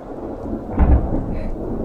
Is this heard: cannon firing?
no